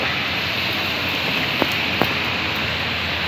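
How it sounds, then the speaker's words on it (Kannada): Dense, steady roar of heavy rain pouring down, broadband and unbroken, with a couple of faint sharp ticks. "ಈ ಮಳೆ ಯಾಕೋ ನಿಲ್ಲ ಥರ ಕಾಣ್ತಿಲ್ಲ"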